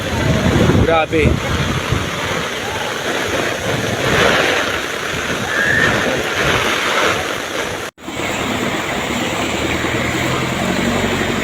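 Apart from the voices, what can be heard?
heavy wind and rain during flood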